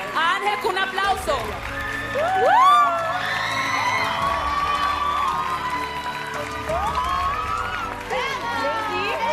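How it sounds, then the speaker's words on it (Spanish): Studio audience at La Voz México 2018 cheering and applauding contestant Ángel, a loud crowd roar with whoops and shrill shouts swelling and holding throughout, mixed with excited voices. "Pero vamos a despedir a Ángel con un aplauso."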